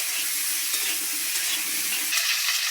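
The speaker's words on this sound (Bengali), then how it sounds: "এবারে এই তেলেই ফুলকপিগুলো একটু ভেজে নেব হালকা করে।" Cauliflower florets sizzle gently in hot oil while being stirred, a steady close frying hiss with soft scraping, no voices.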